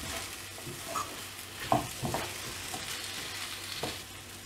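A mushroom cashew pepper fry is stirred in a pan, a faint sizzle broken by soft scrapes and clicks of the spoon, close and quiet with no talk.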